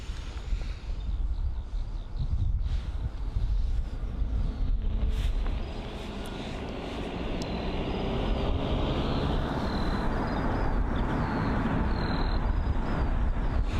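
A Ryanair Boeing 737 MAX 8 airliner at Bristol Airport gives a broad, steady jet roar that swells gradually over the clip, heard at a distance with wind buffeting the microphone.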